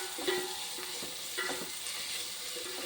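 Onions sautéing in a pan over medium heat for a pea and chickpea vegetable biryani, a steady faint sizzle broken by a few soft stirring scrapes, close by and without talk.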